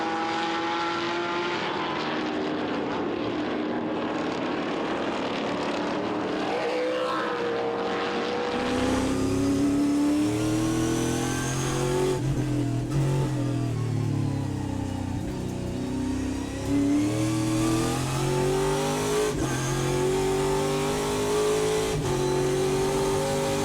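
Onboard Chevrolet Camaro Trans Am race car at Portland, its engine loud and close, revving up and down through gear changes with rising and falling pitch sweeps and a harsh, continuous roar.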